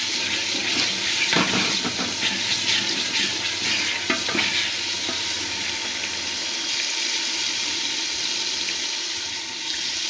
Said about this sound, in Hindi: और ये टमाटर और हरी मिर्च। इसे अच्छे से भून लूँगी।